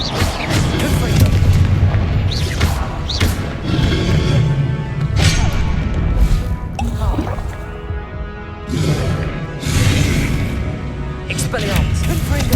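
Confringo blasting spells explode in the Hogwarts Legacy video game, a string of loud booming blasts with crackling tails, mixed among other spell effects and battle noise, with a voice speaking over the fight.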